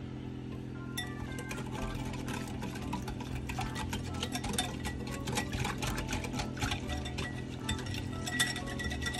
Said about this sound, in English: we're just gonna whisk this together really